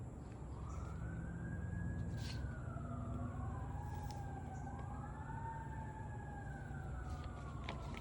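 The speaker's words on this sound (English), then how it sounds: "Hold on, let the sirens go and then you can talk." Wailing sirens rise and fall in overlapping sweeps over a low engine rumble, steady and loud throughout as emergency vehicles pass.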